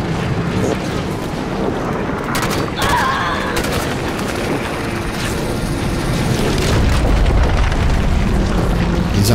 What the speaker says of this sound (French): Ouvrez le feu sur la troupe au sol.